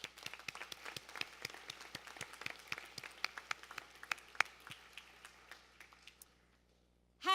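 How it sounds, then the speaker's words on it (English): An audience at a school graduation vesting ceremony applauds with steady, moderately loud scattered clapping that thins out and fades near the end, with no voices over it. "So I'm going to give them a round of applause."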